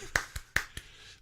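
Two pairs of quick, sharp hand claps close by, each pair a loud slap followed by a softer one, in an otherwise quiet setting.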